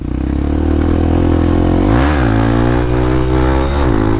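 A Honda CRF motorcycle revs hard and climbs through the gears while wheeling on a public road, the loud close engine note rising and dipping at each shift with no talk.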